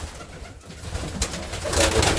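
Racing pigeons in a loft coo and murmur nearby, with soft rolling calls rising in a cluster toward the end over light background rustle.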